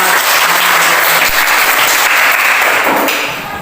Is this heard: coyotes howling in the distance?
no